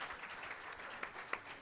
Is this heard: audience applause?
yes